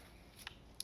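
Scissors cut strips to equal length, giving two faint, quick snips about a third of a second apart against a quiet background.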